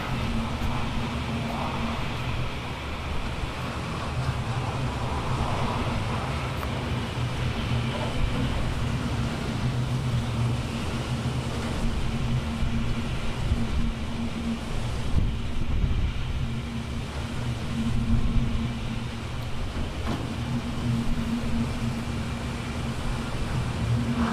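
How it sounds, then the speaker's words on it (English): Hurricane Irma's wind gusts in Florida, roughly 100 mph sustained, roar as a steady, dense rush that swells slightly in places and never lets up, with no voices. "Get some really good gusts coming through."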